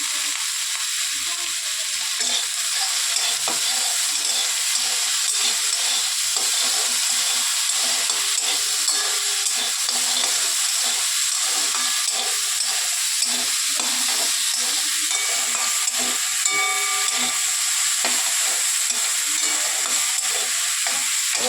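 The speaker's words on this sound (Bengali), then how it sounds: "এটাকে খুব ভালো করে আমাদের ভাজা ভাজা করে নিতে হবে" Vegetables with helencha (buffalo spinach) leaves, salt and turmeric fry steadily in a hot pan, a loud continuous sizzle with occasional scraping from stirring throughout.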